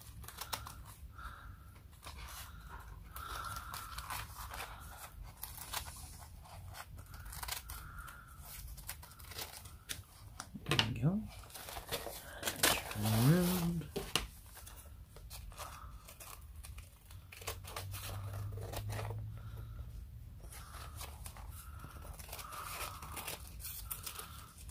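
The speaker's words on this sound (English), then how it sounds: "Or we'll snip it off. Let's snip it off." Scissors snip the paper edges of a handmade journal, close and fairly quiet, with irregular snips, crinkles and a few louder tearing cuts mid-way, and no voices.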